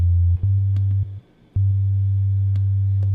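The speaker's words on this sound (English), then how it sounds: "we have this single harmonic for the sine wave" A steady, pure sine tone from the Subtractor synthesizer hums low and continuous, briefly cutting out twice before resuming alone.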